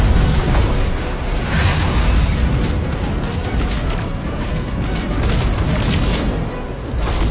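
Missile explosions in the Destiny 2 video game merge into a dense, continuous roar of booming blasts and rumbling debris, loud and sustained from start to finish with no clear gaps.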